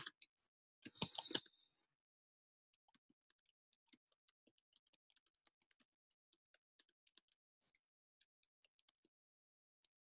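Typing on a computer keyboard: a quick burst of clustered key clicks near the start, then sparse, faint single taps scattered through an otherwise quiet room, with no voices.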